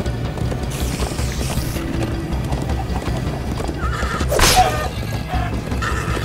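Galloping horse hooves clip-clop steadily in Minecraft Story Mode, with a loud whinny bursting out midway over a busy game soundtrack; no talking.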